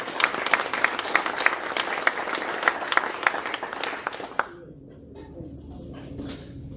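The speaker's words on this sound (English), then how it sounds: "join me in giving all of our guests and our dignitaries a warm round of applause" Applause from an audience at a panel event honoring guests and dignitaries, a dense burst of clapping that fills the room for several seconds, then cuts off abruptly and leaves quieter room sound.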